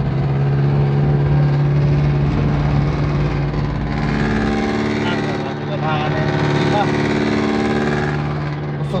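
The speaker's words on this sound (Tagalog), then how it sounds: "ang tingog sa makina" A vehicle engine runs steadily in city traffic near Quiapo Church, a loud continuous hum with a strong low drone throughout, while people talk faintly over it.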